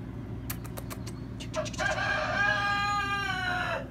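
Chickens cluck in a few short bursts, then a rooster crows loudly over a steady low background hum.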